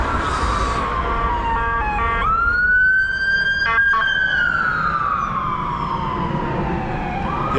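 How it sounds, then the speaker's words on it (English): An ambulance siren wails on a street during a pub crawl, a loud close sweeping tone rising and falling steadily over traffic rumble for several seconds, with no talk. "The ambulance, by the way."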